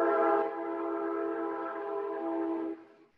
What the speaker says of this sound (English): I have a train tracks right next to my house.